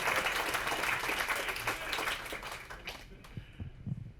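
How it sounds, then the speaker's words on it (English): Audience applause from a live science-themed stage show fills the opening seconds loudly, then thins out and fades toward the end. "Let's give Brandon another round of applause, because that's terrifying."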